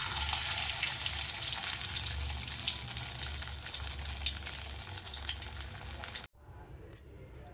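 Sweet corn vada batter fries in hot oil with a dense, hissing sizzle that stays even and close for several seconds, then drops off abruptly, followed by a faint clink.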